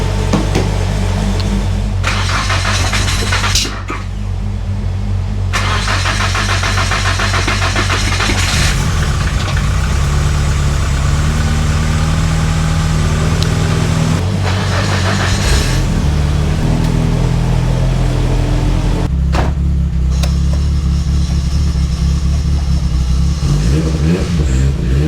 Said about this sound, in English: She hasn't started all week, so I'll leave her running for a bit.